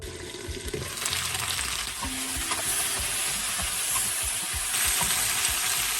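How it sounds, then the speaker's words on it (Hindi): Mixed vegetables for Bengali shukto fry in a pan with a loud, continuous sizzle and crackle, joined by brief scraping stirs and occasional clinks close to the pan. "सब्जी फ्राई हो गया है।"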